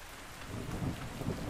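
Steady in-game rain with low rumbling thunder in ARK Survival Ascended, a dense continuous downpour with thunder swelling twice near the end, no voices.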